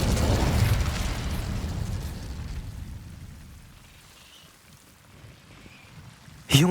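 An Incendio fire spell cast in Hogwarts Legacy: a whooshing burst of flame that fades into a quiet roar, ending with a sudden sharp pop.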